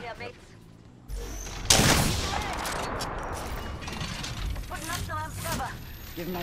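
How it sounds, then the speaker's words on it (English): Apex Legends gunfire crackles in loud, overlapping bursts that swell suddenly and stay dense, with faint in-game voices and clicking mechanisms mixed beneath. "Being shot at."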